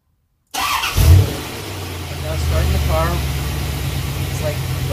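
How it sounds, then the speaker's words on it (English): A C4 Corvette engine starts after silence, with a short starter crank and a quick rev bump before settling into a steady, deep idle rumble close by, while someone talks. "I'm going to go ahead and start the car and see if we've cleared our problem"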